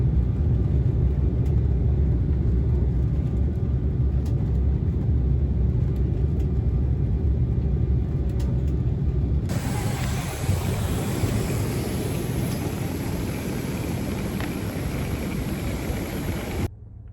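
Airplane engine noise: a loud, steady droning roar, a dense low rumble with broadband hiss that turns brighter partway through and runs on without voices.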